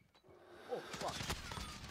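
Gunfire from the video game Modern Warfare comes in a short burst of sharp cracks and bangs over a faint background, lasting about two seconds.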